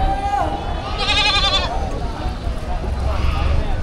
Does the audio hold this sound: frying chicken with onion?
no